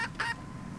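Hens at a backyard coop near Bathurst give two short, close clucking bursts a moment apart, then fall quiet against a low background hum.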